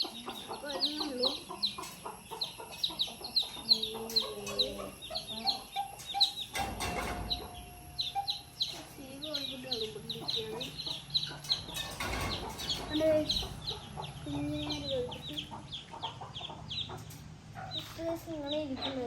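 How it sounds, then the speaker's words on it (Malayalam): Newborn chicks peep again and again, with clucking from fowl mixed in, in a busy, close chorus of short high chirps that runs throughout alongside a person talking. "ഇതാട്ടോ കോഴിക്കുഞ്ഞ്, കണ്ടോ?"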